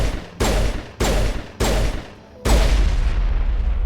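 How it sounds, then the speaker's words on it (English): Gunfire aimed at a transmitter tower in Mass Effect Legendary Edition: four loud, close bursts of shots in quick succession, separated by brief gaps, the last burst longer and ringing out. "Shoot the transmitter tower."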